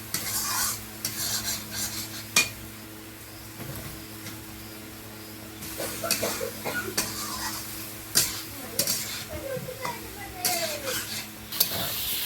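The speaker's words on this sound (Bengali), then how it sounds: "আলুটাকে মশলার সঙ্গে ভালো করে কষিয়ে নিয়েছি" Steady sizzling of fried potatoes stir-fried with spices in a pan, with repeated scraping and stirring strokes and occasional sharp clinks of a utensil against metal, fairly close.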